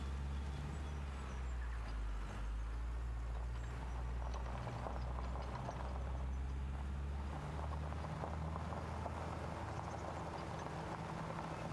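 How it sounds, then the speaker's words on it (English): Tractor engine in Farming Simulator 25 runs with a steady low rumble and faint mechanical rattles, holding a constant drone throughout at a modest level. "Such a cool little tractor."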